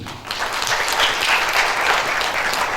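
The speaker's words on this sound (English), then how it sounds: "I think he deserves another round of applause." An audience at an award ceremony during a space science and engineering event applauds, a full, steady round of clapping from a sizable crowd that holds at an even, loud level throughout.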